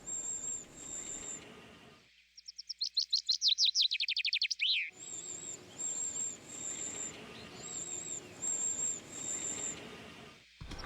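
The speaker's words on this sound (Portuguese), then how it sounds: "Um casal de carriça está ocupado alimentando seus filhotes." A pair of wrens feeding their chicks at a moss-ball nest in quiet woodland, with repeated high bright chirps and a fast rising-falling trill of tweets, close and clear.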